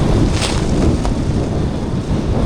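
Strong wind gusts roar across the microphone while parawinging on the water, a loud steady rush with a swelling surge near the start and no voices.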